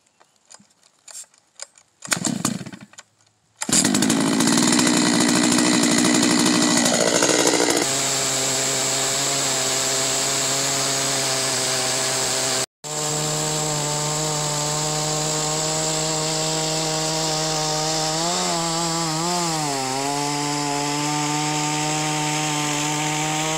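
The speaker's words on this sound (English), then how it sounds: "we're going to switch over saws to a much bigger saw because this is a pretty big tree" A large Holzfforma G660 chainsaw cutting a big tree, with a few pull-start tugs, then a loud roaring engine bogging and rising as it bites into the wood, briefly cutting out, then resuming a long steady cut.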